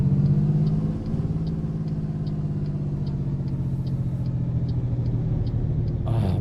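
Mack RS700 truck in American Truck Simulator driving steadily, a deep droning diesel engine rumble with a faint regular ticking above it, continuous and close, ending with a brief click.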